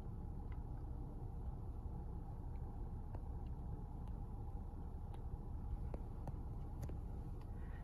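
A car engine idles steadily during a data-logging session, a continuous low rumble holding at the same pitch throughout, fairly quiet and alone with no talk.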